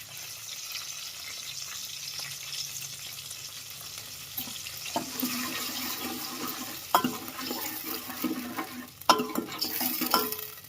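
Water and salt go into a pan of hot oil tempering for dhokla, setting off a growing sizzle and crackle with sharp spattering pops and a little stirring.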